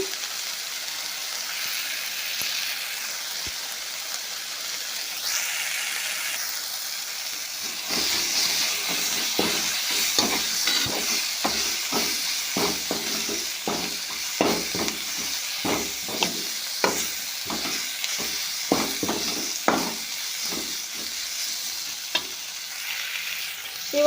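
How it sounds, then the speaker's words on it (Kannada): Onion, tomato and chili sizzle steadily in a pan, with a run of sharp, regular scraping stirs growing denser over the second half. "ಎಲ್ಲ ಫ್ರೈ ಆಗಿದೆ ಈರುಳ್ಳಿ ಟೊಮೆಟೊ ಮೆಣಸಿಕೆ ಎಲ್ಲ ಫ್ರೈ ಆಗಿದೆ"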